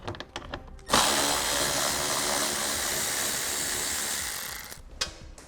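A power driver spins bolts out of a transmission cooler mount for a Derale Series 8000 plate-fin cooler: a few quick taps, then a loud, steady mechanical whir that holds for about four seconds before cutting off with a final click.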